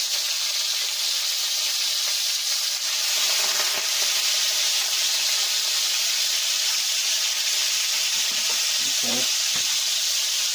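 Butter sizzles and pops in a hot cast iron skillet before fish goes in, a loud, continuous hiss that holds steady, with a few clicks of a utensil near the end.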